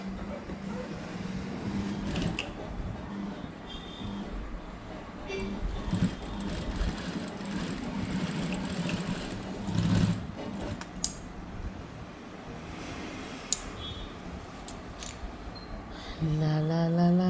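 A sewing machine runs in a steady, continuous hum while stitching a latkan tassel onto a blouse, with faint talk now and then in the background.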